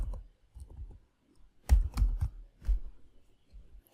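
Sparse keystrokes on a computer keyboard, faint clusters of clicks with a few sharper taps in the middle, recorded close and alone without talk.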